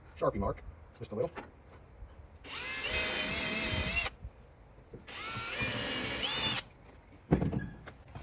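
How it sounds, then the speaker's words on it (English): Two sustained bursts of a high-pitched power drill drilling out metal on a Chevrolet C10 truck bed, separated by a pause, with a person speaking briefly before and after. "I'll drill them out past the Sharpie mark,"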